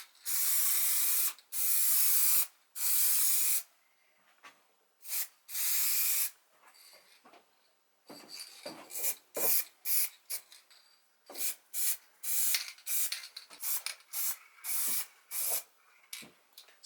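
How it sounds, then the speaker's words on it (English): Lacquer sprays onto a wooden house number sign in repeated short aerosol bursts, first several long hissing passes, then a quick series of shorter spurts, close and clear with no talk. "I'm going to spray over with some lacquer and yeah, do it all round"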